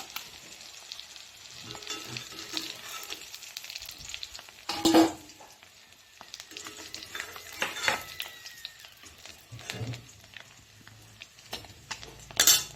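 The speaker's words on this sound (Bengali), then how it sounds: "ডিমগুলো লাল লাল করে ভেজে তুলবো আমি" Eggs fry in hot oil in a home kitchen for a thin Bengali egg curry, giving a steady, close crackling sizzle throughout. Occasional metal clinks of a utensil against the pan punctuate it, and no one speaks.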